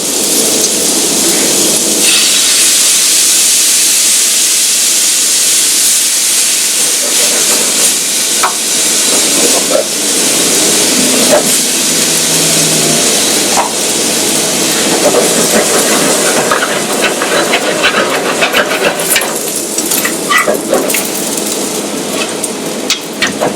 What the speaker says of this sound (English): We're going to deglaze it with red wine.